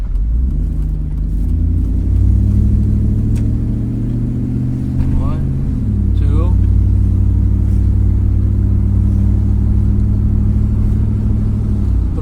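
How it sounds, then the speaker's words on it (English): A car with a junkyard-sourced 4L60E automatic transmission runs on a test drive, its engine a steady mid-pitched drone with a brief rise and shift around the middle, heard from inside with some voices over it. "let's go for a longer test drive"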